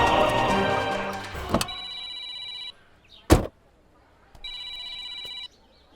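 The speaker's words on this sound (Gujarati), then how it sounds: "બોલો ને સત્તારભાઈ, કેમ ફોન કરવો પડ્યો?" A telephone rings in two electronic trill bursts separated by a pause, heard after a stretch of background voices and a sharp knock or thud, with quiet room tone between rings.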